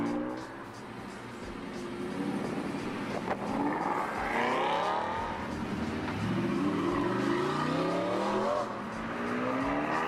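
A procession of sports cars rolls past a home, engines droning and rising and falling as each one passes, with faint speech underneath and a steady, continuous motor roar.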